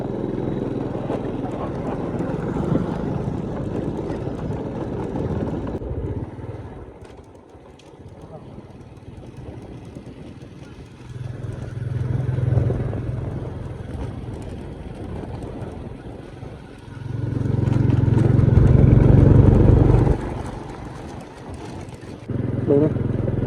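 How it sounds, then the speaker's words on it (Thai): A motorbike travels along a dusty dirt road into an Akha hill-tribe village near Mueang La, Oudomxay, Laos: a steady engine drone with wind buffeting the microphone, the engine swelling louder in surges and easing between them. "เดี๋ยวเบาลังจะขี่รถเข้าไปในกลางบ้าน"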